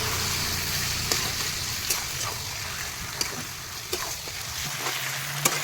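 Mutton for handi mutton cooks in a pot, giving a soft, steady sizzle and bubbling hiss, with a few light clinks and taps scattered through it.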